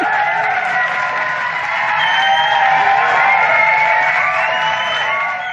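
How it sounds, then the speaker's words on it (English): Audience at a talk on developmental trauma cheers, whoops and claps steadily for several seconds, a loud, sustained crowd roar close by. "Let me have some applause, Mr. B, right now."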